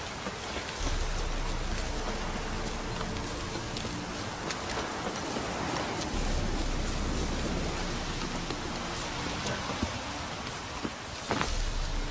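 Heavy rain roars steadily in the video game The Witcher 3: Wild Hunt, with a broad hiss and occasional louder splashes, continuous from start to finish with no talking.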